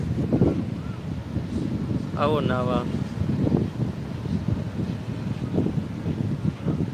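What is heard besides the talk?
strong wind at the seaside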